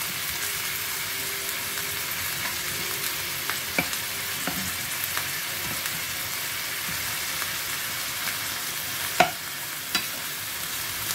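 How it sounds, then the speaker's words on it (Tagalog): Pork chunks browning in a frying pan, a steady low sizzle throughout with a few sharp crackles and spatters standing out near the end. "i-brown lang natin yung both side ng carne mga lodi"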